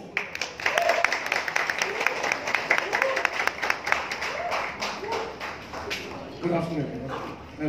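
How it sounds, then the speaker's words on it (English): Scattered hand claps from an audience for director Abhishek Kapoor on stage at a Kedarnath film event, sparse and uneven sharp claps while a voice speaks through them. "round of chota applause at least for Abhishek Kapoor"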